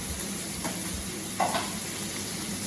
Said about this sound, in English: Just while they're sizzling away, we'll make our puree.